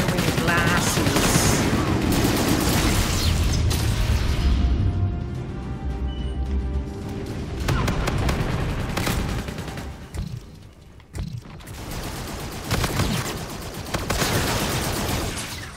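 Sustained automatic gunfire in a Call of Duty: Infinite Warfare team deathmatch, dense loud bursts with brief lulls running throughout, with a voice speaking at times over the shooting.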